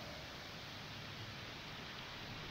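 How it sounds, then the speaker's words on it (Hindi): Steady, even hiss of rain falling at Tughlakabad Fort in Delhi, a dense wash of drops with no voices or other sounds over it. "यार मौसम तो एक नंबर हो गया यार, क्या मस्त बारिश हो रही है।"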